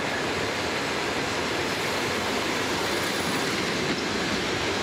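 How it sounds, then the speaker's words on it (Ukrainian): An Ukrzaliznytsia electric commuter train runs on a Kyiv city line, giving a loud, steady rumble with rhythmic clickety-clack of the wheels and faint squealing, close and continuous until a sudden cut at the end. "від сьогодні кожен може скористатися ось цим поїздом."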